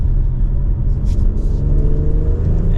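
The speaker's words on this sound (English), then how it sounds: "you can hear a little bit of that exhaust under a mild acceleration" A steady, low engine and exhaust drone from a 2024 BMW X3 M40i SUV, rising gently under mild acceleration, close and continuous with no talking.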